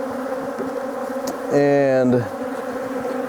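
Honeybees buzz loudly at an open hive during a split, with a steady harmonic drone swelling close for under a second amid a softer background hum; a brief word is spoken.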